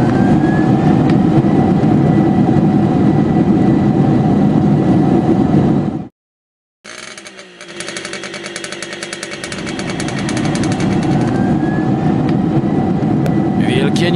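Toy airplane turbines whine loudly and steadily, cut out abruptly into a brief silence, then spool back up with a rising hum that settles into the same continuous drone.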